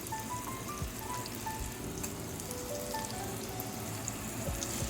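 Chopped garlic sizzles in hot oil with a steady, soft crackle and fine spitting, fairly faint and continuous, with no talking over it.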